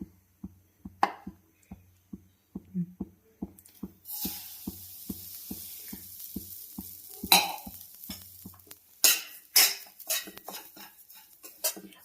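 Semolina frying in ghee in a pan, a spoon scraping and tapping in a steady rhythm, then a soft sizzle rising with louder clinks and stirring scrapes, close up with no talking.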